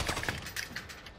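Gunfire in Call of Duty: Modern Warfare Resurgence, a rapid cluster of sharp, close shots in quick succession with a few thuds, loud and crackling over about a second.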